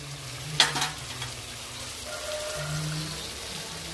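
Chicken curry with drumstick pieces and tomatoes simmers in a pan, giving a steady soft sizzle with a sharp clink or stir near the start and faint low hums beneath, no talking.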